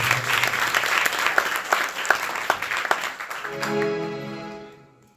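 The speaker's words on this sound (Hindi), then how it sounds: "एक बार जोरदार तालियां" Loud applause from the audience at an Arya Samaj annual celebration in Noida, a busy burst of clapping with sharp individual claps that tapers off as a held musical tone begins and then fades.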